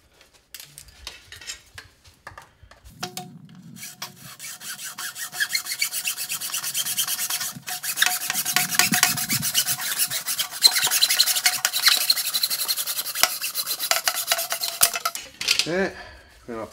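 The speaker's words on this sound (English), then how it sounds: "clean off the burrs" Deburring the cut end of an ABS plastic pipe produces a steady, close scraping and rubbing sound lasting about twelve seconds. Brief handling noises come before and after it, and nobody speaks.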